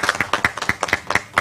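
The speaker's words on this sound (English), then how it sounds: "A big round of applause for team Candela" Audience at a metrology quiz event claps for a team, a quick burst of sharp, fairly close hand claps with a few people clapping unevenly rather than a big crowd.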